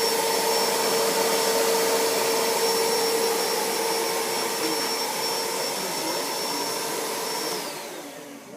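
A carpet shampooer's vacuum suction runs loud and steady with a high whine, then winds down near the end.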